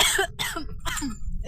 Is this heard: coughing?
yes